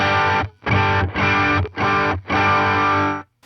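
Electric guitar run through a drive pedal into the clean normal channel of a Fender Deluxe Reverb amp, playing five loud, thick overdriven chords with short gaps between them, close and alone.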